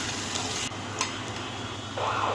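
Onions sizzling in a pan for chicken curry are stirred, a soft scrape and clatter over a constant quiet frying hiss, with a brief clink midway and the sizzle growing near the end.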